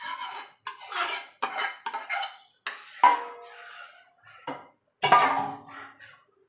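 A spoon stirs sago into cold milk in a bowl, a series of sharp clinks and scrapes against the sides in uneven bursts with short pauses between strokes.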